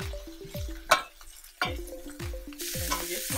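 Garlic stirred in a hot pan for Dominican-style saltfish sancocho, a hissing sizzle broken by a few sharp utensil scrapes, with repeating tonal background music throughout.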